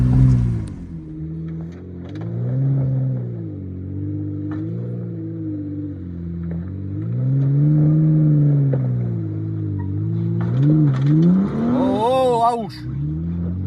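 A car stuck in place revs its engine repeatedly up close, the pitch rising and falling in long surges as the wheels spin, climbing to a harsh, high whine near the end.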